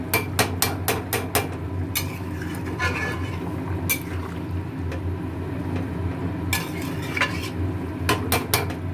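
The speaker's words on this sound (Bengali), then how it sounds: "আমার মাটন কারি হয়ে গেল একটু ঝোল হয়ে গেছে বেশি এটা একটু টেনে নেব" A spoon scrapes and clanks against a pot as mutton curry is stirred and reduced, with sharp metallic knocks in quick clusters over a low, steady simmering background.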